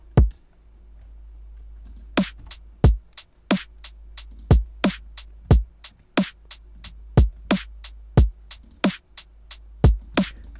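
A 90 BPM halftime drum pattern built from an Ikali Threads kick, a Cymatics snare and hi-hats plays as a clean, dry loop of sharp, evenly spaced hits with deep kick thumps underneath, no voices.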